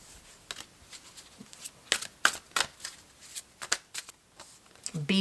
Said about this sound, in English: I'm going to pull one card from the Mindfulness on the Go cards